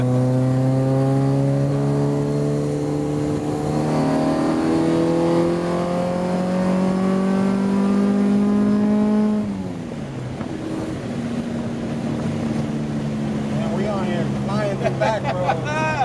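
A Honda Civic with an all-motor H23A engine pulls hard through the gears, the engine note climbing steadily, dropping at a shift, then rising again. Occupants talk over the engine.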